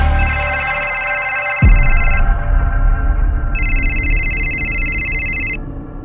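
An electronic phone ringtone plays a repeating chime, stops briefly, then rings again, loud and close over a low background rumble.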